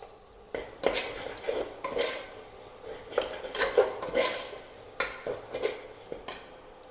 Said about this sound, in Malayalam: നമ്മൾ ആദ്യം അരച്ച് പൊടിച്ച് വെച്ച പൊടി നമ്മൾക്കിടാം. എന്നിട്ട് നല്ല മിക്സ് ചെയ്ത് കൊടുക്കാം.